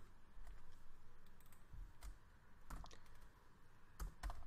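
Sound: typing a question on a computer keyboard

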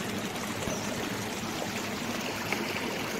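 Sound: stream and waterfall water flowing

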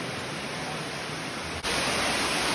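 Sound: flowing water inside a cave in Okinawa

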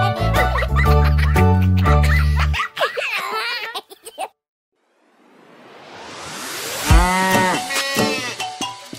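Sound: cow mooing

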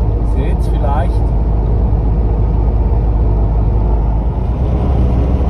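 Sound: camper van driving over the mountains

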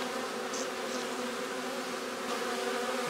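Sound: honeybees buzzing around hive

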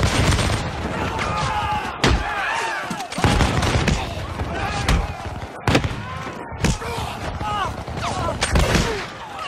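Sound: musket volley gunfire in a LEGO battle animation

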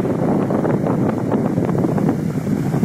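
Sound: wind on a windy morning by the sea

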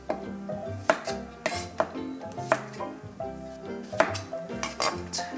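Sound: knife slicing garlic cloves on a cutting board

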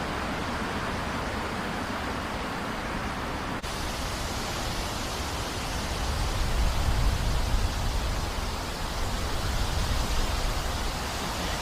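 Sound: strong wind blowing before rain

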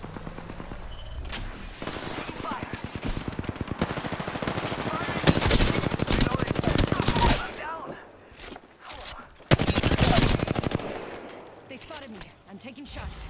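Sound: gunfire in Apex Legends video game

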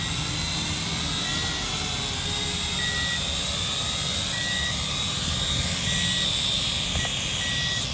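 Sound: drone flying and landing

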